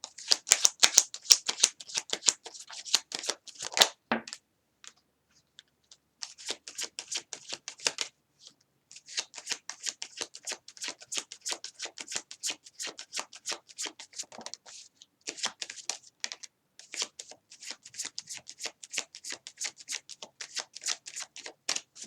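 Tarot cards shuffled by hand close up, with repeated bursts of crisp, rapid riffling and flicking separated by short pauses, the quick card slaps running on for about twenty seconds.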